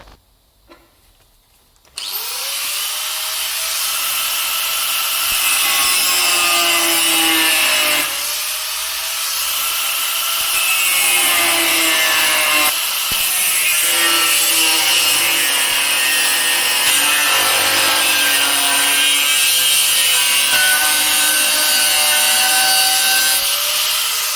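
A hand saw cuts through a piece of steel held on a bench, steady back-and-forth rasping strokes running continuously for about twenty seconds, close and loud, with no speech.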